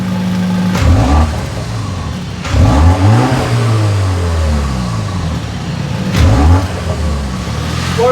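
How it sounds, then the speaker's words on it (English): A 2024 BMW X1 M35i revs through its quad exhaust, with three loud throttle blips that climb sharply and fall back to a steady idle, heard close up with no talking. "I really like this quad exhaust."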